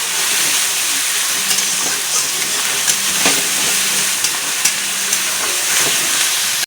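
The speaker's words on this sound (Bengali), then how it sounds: "এখন আমি দিয়ে দেবো পেঁয়াজ বাটাটা, রসুন বাটা দিয়ে আমি কষতে থাকবো।" Onion and garlic paste masala frying for mutton kosha, a steady dense sizzle and hiss close up, with faint stirring clicks and scrapes breaking through now and then.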